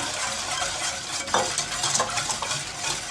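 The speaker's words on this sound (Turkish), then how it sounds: "şeker ve kakaoyu süte karıştırarak ilave ediyorum. Biraz hızlı karıştırın ki pütürleşmesin." A spoon stirs sugar and cocoa into milk in a pot on the stove, a steady soft scraping and swishing with a brief clink of utensil against metal, close and continuous with no talk.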